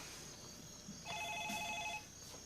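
A cellular phone trills with a short electronic ring, an even warbling tone lasting about a second, heard at moderate distance over a quiet indoor room background.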